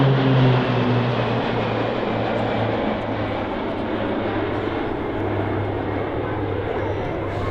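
Pilatus PC-9 training aircraft roar past in a formation display at an air base, a steady loud drone of propeller engines with a low hum running throughout.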